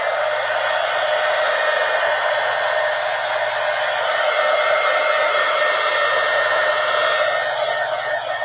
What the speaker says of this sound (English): now I'm going to take my heat gun and dry it real quick